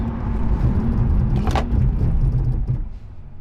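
Steady road rumble and tire roar from a C8 Corvette moving at about 51 mph on Hawk Performance brake pads, with a brief hissing whoosh midway; no talking.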